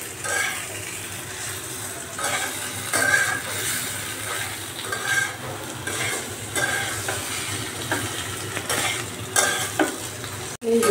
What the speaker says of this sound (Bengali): সুন্দর মতো ভাজা হচ্ছে